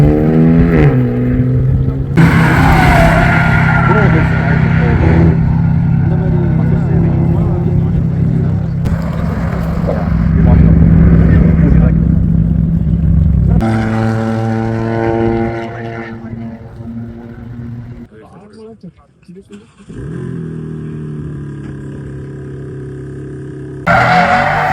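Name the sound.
rally and sports cars driving on race circuit, tires skidding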